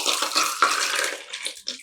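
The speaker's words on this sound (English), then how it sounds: "We're going to dump and pour." A frozen daiquiri is dumped and poured out in a close, continuous wet slushing and sloshing stream, with a few brief surges and breaks near the end.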